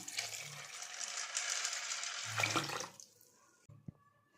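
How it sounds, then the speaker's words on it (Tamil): Water pours steadily into a bowl of washed chickpeas for about three seconds, then stops, followed by a few light clinks and a brief splash. "இப்போ தண்ணி ஊற்றிக்கலாம்"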